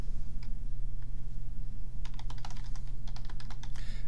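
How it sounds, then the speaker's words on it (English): Typing on a computer keyboard to enter an SQL command in Oracle Apex, a few scattered keystrokes and then a quick burst of rapid clicking over a steady low hum. "That's exactly what we're going to type, create table."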